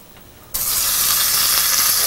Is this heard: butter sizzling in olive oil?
yes